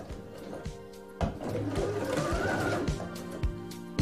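Sewing machine stitching a short backstitch on the lining of a fabric tote bag, a close, steady mechanical whir with rhythmic needle thumps, starting and stopping briefly, with no talking.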